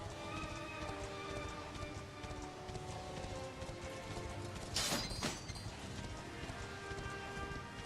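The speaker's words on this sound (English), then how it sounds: "It's been a while since I've used the horse in this game." Horse hooves clip-clopping in Dragon Quest XI, a steady dense patter under busy game music with a brief louder burst midway.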